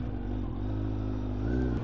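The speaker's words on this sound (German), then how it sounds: "Aber endlich hört man wieder Motorrad." Motorcycle engine on a motovlog ride, a steady low idling or cruising drone that holds even and fairly quiet, rising slightly near the end, with no talking.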